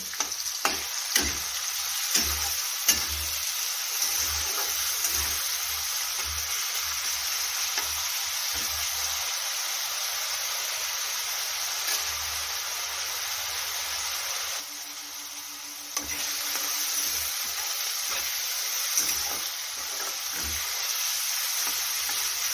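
Onion fries in hot oil in a pan, a loud, steady sizzle that carries throughout, broken by several short stirring clatters near the start.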